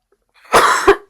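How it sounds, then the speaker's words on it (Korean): A single person coughs sharply once, then gives a shorter second cough, close and fairly loud, with no speech around it. "기침이 나오는데"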